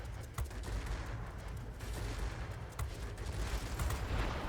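Aircraft guns rattle continuously in World of Warplanes heavy-fighter combat with a Ki-93, a dense, steady fusillade of rapid fire over a loud engine drone.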